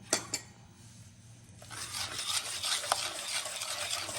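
A grated tomato, onion and ginger mixture being stirred in a bowl for instant rava pudla batter, a couple of sharp clinks, then a continuous wet scraping and rubbing, close and moderately quiet.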